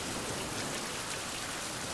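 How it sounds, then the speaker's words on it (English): Steady rain in a survival video game, a dense, even hiss of falling drops that fills the whole clip with no voices over it. "I've got to go out in the rain."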